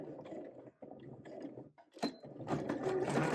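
A sewing machine stitches and backstitches a trouser seam with a 3/8 inch allowance, running in short bursts with brief pauses, then a steady louder run of rapid mechanical needle clatter close by.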